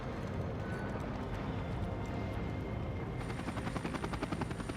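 Helicopter in the video game Max Payne 3, its rotor thumping in a loud, steady rapid beat that persists throughout, with a higher whine joining partway through.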